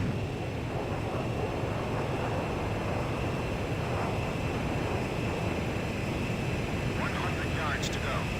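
Jet fighter engine roar from Ace Combat 5, a steady loud broadband drone as the aircraft flies toward a refueling craft, with radio voices talking over it.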